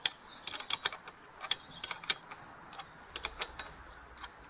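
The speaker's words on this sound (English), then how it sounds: "tighten up the bolts" Bolts are tightened on an Alaskan chainsaw mill, heard as a quiet, close series of irregular metallic clicks and ratcheting ticks that come in small clusters with short pauses between them; no voices.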